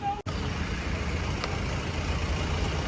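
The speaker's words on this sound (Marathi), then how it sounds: "तर भरपूर ट्रॅफिक आहे माझ्या मागे, तुम्ही बघू शकता" Heavy Sunday road traffic in Umerkhadi makes a steady, dense roar of vehicles with no single pass standing out, moderately loud and unbroken after a brief cut at the start.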